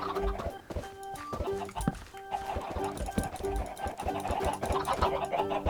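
Many chickens clucking in Minecraft, a busy overlapping chorus of short clucks mixed with game sounds while people talk.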